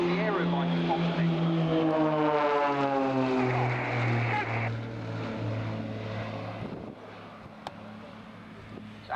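Propeller aircraft of The Blades aerobatic team sweeps past during a manoeuvre at an airshow, engine drone loud with a strong pitch glide as it passes, then fading; a commentator talks over it.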